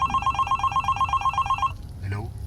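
A telephone rings in a rented house during a spoken horror story, a rapid trilling bell repeating in quick bursts for a second and a half before cutting off, over a low background hum.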